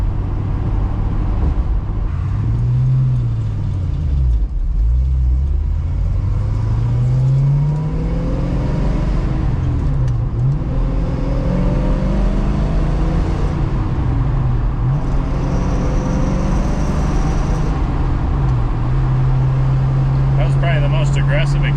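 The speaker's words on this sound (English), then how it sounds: "Aggressive acceleration, and I feel like I was barely even in the throttle" A 1966 Ford Mustang fitted with Holley Sniper fuel injection accelerates hard in fourth gear, its engine note climbing and sweeping in pitch, loud and close from inside the car, with people talking over it.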